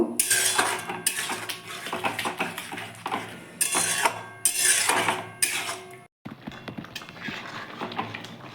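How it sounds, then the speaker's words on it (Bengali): Spoon stirring jaggery into tomato, date and aamsotto chutney in a metal pan, with loud scraping and clinking strokes in bursts, a brief pause, then steadier stirring. "এবার আমি গুড়টা ভালো করে এর মধ্যে মিক্স করে নেব"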